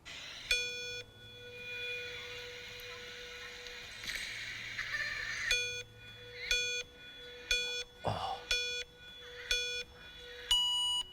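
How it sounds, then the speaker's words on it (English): Electronic race start countdown beeps at a mountain bike enduro stage at Bike Park Wales: one long tone, a pause, then a series of evenly spaced short beeps, close and clear over quiet background. "it's been too long since I've heard those beeps"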